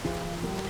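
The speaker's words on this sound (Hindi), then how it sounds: "इतनी बारिश हो रही है" Rain falls in a steady dense hiss, close and loud throughout the brief moment, with a faint tonal hum underneath.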